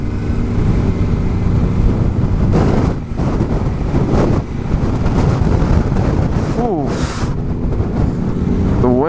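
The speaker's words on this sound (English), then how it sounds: "The wind is fierce." Strong, fierce wind blows across an open outdoor spot, roaring and buffeting loudly against the microphone in rising and falling gusts, with a faint voice or two under the noise.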